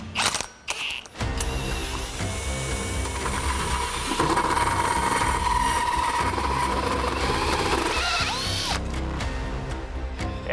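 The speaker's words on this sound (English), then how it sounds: "drilling holes in the back of a truck, especially a brand new truck" A power drill bores holes into the back of a new Western Star 4900 truck cab, whirring and grinding continuously up close for several seconds after a few short starts, then winding down.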